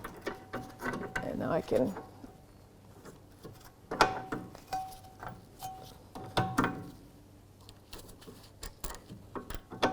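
Ratchet clicking in short bursts while tightening the nut on a rear sway bar link of a 2005-2009 Subaru Outback, with metallic tool noises close by and someone talking quietly between them.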